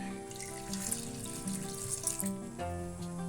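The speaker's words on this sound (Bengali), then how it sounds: "দিচ্ছি এই বাটিটার এক বাটি জল" Water from a bowl poured over peas and potatoes in a pressure cooker, a steady close splashing pour lasting a few seconds with a faint clatter underneath.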